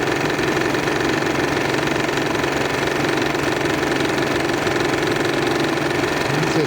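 A Bassett Lowke live steam engine in a 42-inch patrol cruiser model boat runs steadily at 25 psi, a continuous close mechanical chugging and hiss with no pauses or talk.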